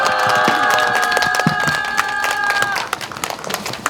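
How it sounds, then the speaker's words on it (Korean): Crowd applause and clapping at an outdoor candlelight political rally, with a sustained tonal sound ringing over the clapping for the first few seconds before the applause thins into scattered claps. "큰 박수로 모시겠습니다."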